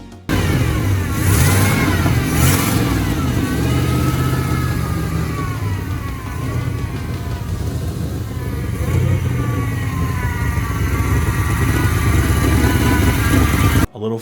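An old pickup truck engine that has sat without use turns over on fresh gas and runs, a loud, steady mid-pitched rumble with occasional revving swells that stays close and continuous throughout.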